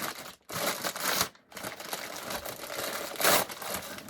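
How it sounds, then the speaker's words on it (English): Gift packaging crinkles and crackles loudly as it is opened, in irregular close bursts of rustling with brief pauses between them; no talking. "Sorry for the loud crinkling."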